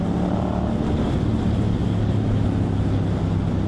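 Motorcycle engine drone and steady wind buffeting picked up by a helmet-mounted microphone while riding, a continuous loud low rumble with constant wind roar and no voices.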